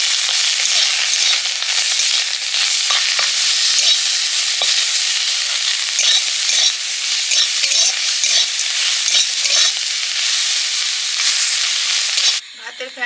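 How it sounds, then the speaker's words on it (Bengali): Onion paste fries in a little oil over fish in a pan, a loud continuous sizzling hiss with scraping stir strokes throughout, cutting off abruptly near the end; no talking. "পেঁয়াজ বাটা দিয়ে দিলাম অল্প একটু তেল দিয়ে নেড়ে নেবো"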